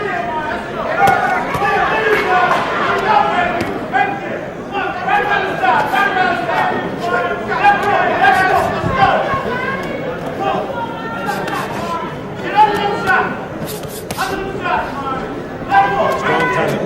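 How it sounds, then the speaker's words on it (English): A boxing crowd hollers, yells and chants for Myron Taylor during the fight, a loud, dense wall of voices that keeps swelling and surging, with sharp shouts poking out near the end. "the crowd's hollering and yelling for Myron, calling Myron, trying to exhort Myron Taylor"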